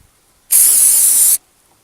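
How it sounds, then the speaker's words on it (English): A single steady burst of brake cleaner aerosol sprayed onto a Farmall International tractor power steering shaft, a loud close hiss lasting under a second, then silence. "Just some brake clean here."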